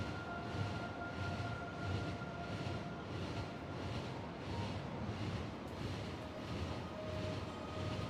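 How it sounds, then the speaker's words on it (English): A Factorio Space Age train rolls along with a steady, pulsing rumble and a faint sustained tone, moderately quiet and without talk. "I move the train right here."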